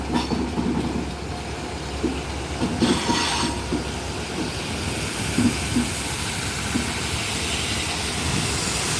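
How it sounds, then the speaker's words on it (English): A railhead treatment train led by a Class 67 diesel locomotive rumbles past close by in Gloucester, with steady wheel noise, rhythmic clicks over rail joints and occasional faint squeals, continuing for several seconds. "There is the railhead treatment train."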